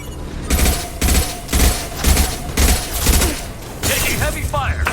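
Gunfire in Mass Effect 2, with five loud, evenly spaced bursts of rapid shots about half a second each, close and punchy, followed by a voice and sci-fi effects.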